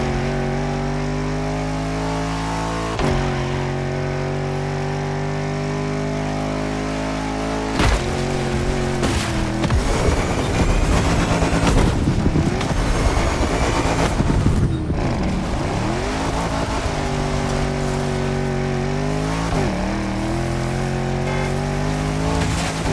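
A KTM 450 motorbike in the racing game The Crew Motorfest, its engine droning and revving steadily throughout with shifting pitch, a few abrupt cuts and gear changes, loud and close with no voices.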